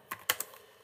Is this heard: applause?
no